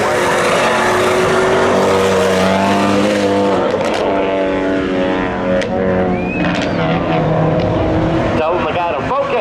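A Chevy Camaro and a Ford Focus launching in a spectator drag race at Seekonk Speedway, loud engines revving and roaring down the strip under an announcer's voice over a PA.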